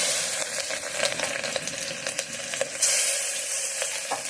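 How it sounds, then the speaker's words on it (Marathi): Steady crackling sizzle of garlic frying in hot oil, with a few sharp pops and light clinks, fairly close and continuous throughout. "हे लसणीची फोडणी करणार आहोत आपण ही लसूण आपण घालतोय फोडणीला"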